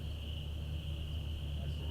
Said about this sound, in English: You just hear crickets now?